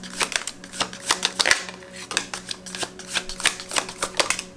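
Glossy oracle deck cards are shuffled in quick, repeated riffling bursts, a close crisp flutter of slick card stock rising and falling in a steady rhythm, with no talking.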